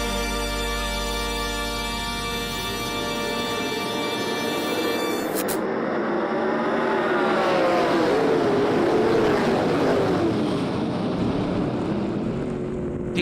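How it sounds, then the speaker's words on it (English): Sprint cars roar around a dirt track, a loud, wind-buffeted engine drone building as the pack passes close, with rising and falling pitch sweeps from several cars at once. "Are you ready to go sprint car racing?"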